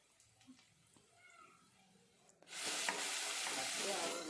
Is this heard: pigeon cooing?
no